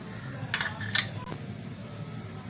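A utensil clinks against a bowl a couple of times while a fish marinade of lemon juice, ginger-garlic paste, garam masala powder and salt is mixed, the taps faint over a steady background hum.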